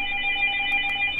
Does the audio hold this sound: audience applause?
no